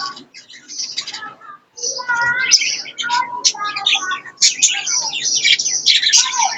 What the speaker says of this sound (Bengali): দেখতে পাচ্ছেন বাজিগার পাখি।